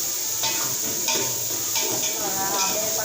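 Garlic and green chillies sauté with softened onions in a pan, a steady close sizzle with rhythmic scrapes and knocks of a stirring spoon against the metal.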